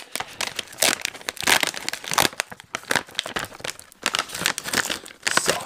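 A resealable zipper bag of beef jerky being opened and handled, giving continuous close, loud plastic crinkling and crackling with brief tearing-like rips, with no talking over it.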